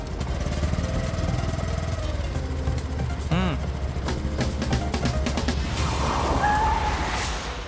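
Motorbike engine running close by, a steady loud drone with a brief whining rev in the middle and a burst of rougher noise near the end, voices faintly in the background.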